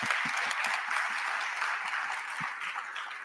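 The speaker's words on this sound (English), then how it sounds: "let us please join me in applauding, giving a round of applause to all the staff." Conference audience giving a round of applause to the staff at an opening session, a continuous hall-wide patter of clapping at moderate distance, with a few sharper nearby claps.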